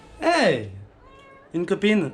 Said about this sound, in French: C'est mon chat d'amour.